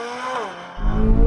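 Corvette Z06 with a naturally aspirated V8 launching hard off brake boosting, a steady mid-rev drone that suddenly swells into a loud, low, rising roar as the car pulls away.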